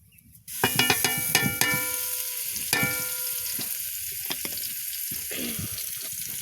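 Puti fish stir-fried with white and black mustard seeds and mustard paste starts with a burst of sizzling as ingredients hit the hot pan. Clanking stirs and crackles follow, settling into a steady frying hiss with no speech.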